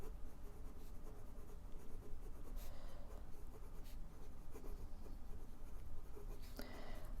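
Fine-nib fountain pen with very smooth, wet nib and blue ink scratching steadily across paper, close and quiet, continuous strokes with a few brief sharper scrapes.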